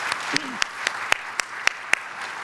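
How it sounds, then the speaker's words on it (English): A university audience at an Ohio University updates event claps for four presenters, a sparse, fairly close patter of individual hand claps in an uneven rhythm with faint voices beneath. "let's give all four presenters one more round of applause"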